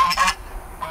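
Loud geese honk several times in quick bursts, close by, then fall briefly quiet before one more honk near the end.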